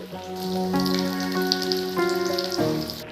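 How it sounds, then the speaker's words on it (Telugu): Pieces of fish fry in hot oil over a medium flame, giving a continuous crackling sizzle beneath background music, with small popping spatters. "వేడైన నూనెలో ఒక్కొక్క ముక్కని వేసి వేయించుకోవాలి"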